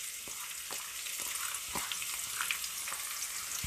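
Chopped onion sizzles in a frying pan, giving a steady, fairly quiet frying hiss. Light scattered pops and stirring ticks sit on top of it, with no talking.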